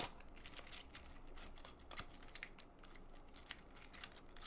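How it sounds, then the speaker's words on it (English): An Infinity Cube fidget toy, a loose knockoff version, rattles and clanks in quick, irregular bursts of light clicking, close and fairly quiet, with no talking. "it's real rattly and clanky. But it is the Infinity Cube."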